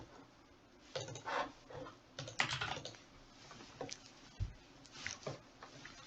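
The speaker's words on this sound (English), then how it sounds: "enter your password" A password typed on a computer keyboard: irregular bursts of quick, close key clicks with short pauses between, one heavier keystroke standing out, no voices.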